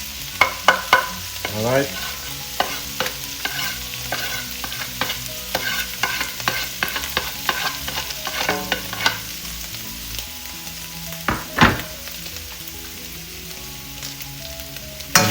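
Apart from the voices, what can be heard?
garlic, ginger and scallions stir-frying in oil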